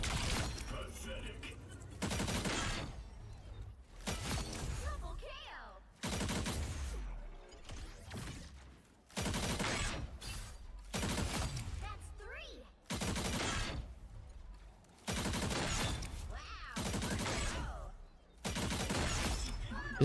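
Primary-fire gunfire from a weapon in a video game comes in repeated loud bursts, each a dense crackling volley lasting a second or two, separated by short gaps, with occasional talk between them.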